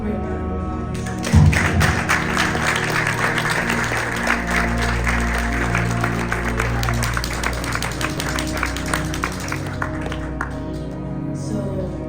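An audience applauding at a sermon, a dense, continuous patter of clapping that starts abruptly after a thump and holds steady for several seconds before thinning slightly.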